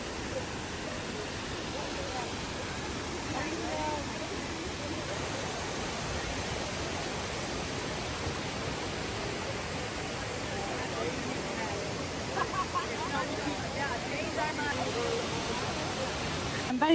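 Kravica waterfall in Bosnia and Herzegovina roars as a steady, dense wash of falling water, constant and broadband throughout, with faint crowd murmur mixed in.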